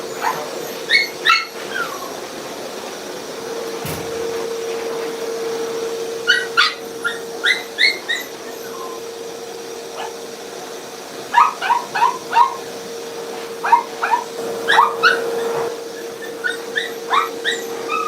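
A Yorkie at a grooming session yips and barks in quick bursts with whimpering between them, close by and repeated in irregular clusters over a steady background hum.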